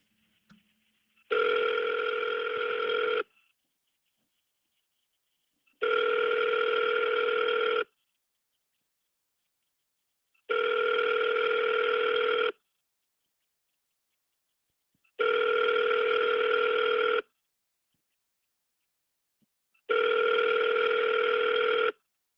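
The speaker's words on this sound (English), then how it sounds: "Answer your damn phone." An outgoing phone call rings out unanswered, and the ringback tone sounds five times. Each ring lasts about two seconds and is followed by a slightly longer silence, steady and clear with no speech.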